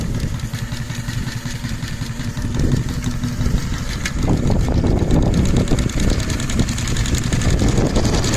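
A Case steam tractor engine chugs steadily up close, a rough rhythmic knocking that grows louder and busier partway through as the RPM rises, with no talking.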